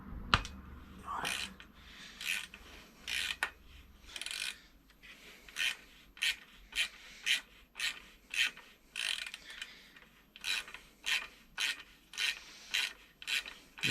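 Adjuster screw on the shock absorber of a Kaabo Mantis electric scooter being worked loose with a tool, giving a run of short, evenly spaced scraping clicks close up that grow more regular toward the end.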